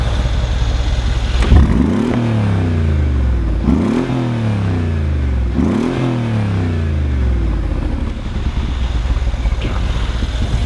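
A loud, deep Mercedes-AMG G-Wagon engine revs hard three times through its side exhaust, each rev rising then falling away, close by with a steady rumbling idle between.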